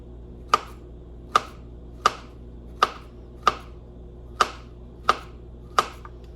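A knife slices through a small banana on a board, eight evenly spaced crisp taps about one every 0.7 seconds, close and clear with no talking.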